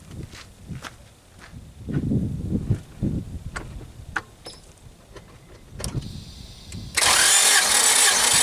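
Quiet shop shuffling and clicks give way to an Acura Integra engine cranking over during a cylinder compression test, a loud, steady, dense churn that starts abruptly and runs to the end.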